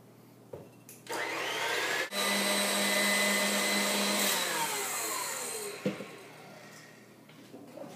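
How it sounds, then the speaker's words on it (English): An electric mixer whips egg whites with salt toward stiff peaks for a gluten-free chocolate almond sponge cake, a steady motor whine starting abruptly, dipping once, then running several seconds before cutting off, with no talk. "we're going to want to beat this till stiff peaks, but you don't want them dry"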